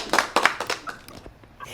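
A brief burst of light clapping used as a reaction effect in a video call, a handful of quick, soft claps in an uneven patter, fairly faint.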